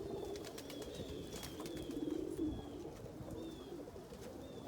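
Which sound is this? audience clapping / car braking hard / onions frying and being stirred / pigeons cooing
pigeons cooing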